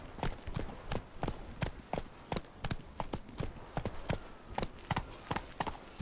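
Galloping horse hooves in the Witcher 3 video game, a steady rapid clip-clop rhythm of repeated sharp hoof strikes, fairly close and continuous without talk.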